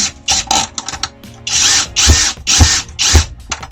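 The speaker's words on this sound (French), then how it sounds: "je vais visser la première pour condamner le tout" A power screwdriver driving screws into a camper van roof skylight, heard as close, loud whirring bursts of about a second each, separated by short pauses and clicks.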